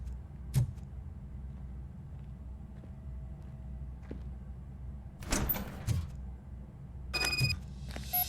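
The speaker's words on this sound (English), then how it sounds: "Now let me get that door open for you." A sliding door in the RoboCop: Rogue City video game moves open with a couple of mechanical whooshes and clunks, separated by brief metallic clicks over a low, quiet ambient hum.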